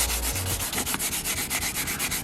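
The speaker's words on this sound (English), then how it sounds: "And we'll go ahead and sand the area." Sanding pad rubbing across a damaged leather car seat, a steady close scratchy hiss with rhythmic strokes, continuous and loud with no talking.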